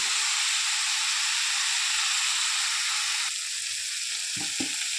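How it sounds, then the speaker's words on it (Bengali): Bitter gourd and potato with turmeric, salt and spice paste fry in a pan with a bright, steady sizzle that eases slightly midway, followed by a couple of short scraping knocks near the end. "এবার তিতা করলা আলু মশলা ভাজি হয়ে গেছে।"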